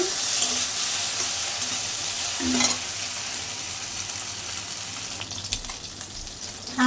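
Mixed fish fries lightly in a pan with a close, steady sizzle. A spatula scrapes and stirs now and then, with a couple of sharper clatters and no talking.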